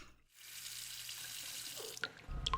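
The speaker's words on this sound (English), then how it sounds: "I walk down the hallway to the kitchen and go to fill up a glass of water." A kitchen sink tap runs water steadily into a glass, a continuous close hiss that cuts off abruptly near the end, followed by a brief thud and a short low rumble.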